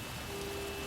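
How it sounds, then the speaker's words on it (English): Rain falls steadily in the video game L.A. Noire, a soft, even, continuous wash with no voices. "I'm not gonna stand in the rain."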